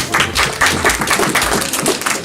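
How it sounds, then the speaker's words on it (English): An audience claps in quick, steady bursts, close and fairly loud, in one short stretch of applause. "give them all a round of applause"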